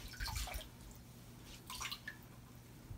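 Water drips and splashes from a wrung-out fabric table runner after a soak, a few close, irregular wet bursts over a low steady hum.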